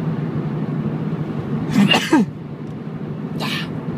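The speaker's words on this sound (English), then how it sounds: "I'm gonna sneeze." A single sharp sneeze bursts out close to the microphone over a low background hum, followed a moment later by a brief breathy sound.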